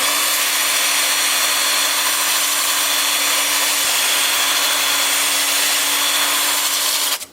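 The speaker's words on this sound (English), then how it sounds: "Lathe is spinning at 350 RPM." An oak bowl is sanded with 80 grit on a wood lathe spinning at 350 RPM, producing a steady, loud whirring hiss with a constant motor hum that stops abruptly at the end.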